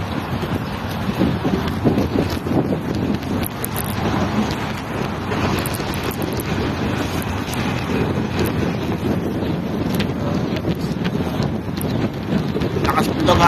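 Strong wind buffeting the microphone outdoors at an exercise spot in Hawalli, Kuwait, a continuous loud rushing roar that persists throughout.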